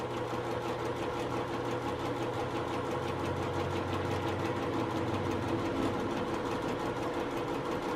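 Sewing machine stitching quilt pieces for a pinwheel block with a quarter-inch seam, a steady close mechanical hum and rapid needle rhythm running throughout.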